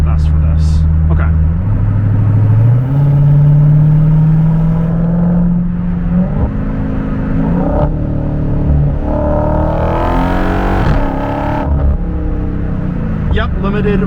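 A 2023 Dodge Hellcat of about 500 horsepower revs up under hard acceleration, a loud, close engine roar rising steadily in pitch through several gear changes while a voice talks over it.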